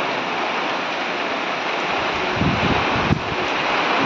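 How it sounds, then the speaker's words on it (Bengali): Steady roaring wind and heavy rain, a dense continuous wash of noise with a few gusty buffets and a sharp knock near the end. "দেখেন হাওয়া বৃষ্টি একসাথে এসেছে"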